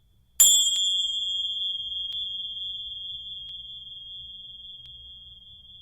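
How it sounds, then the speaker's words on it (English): A single bright chime strike in a studio recording rings out with a sharp attack, then a pure high tone that lingers and slowly fades over several seconds. "Be sure to add some chimes."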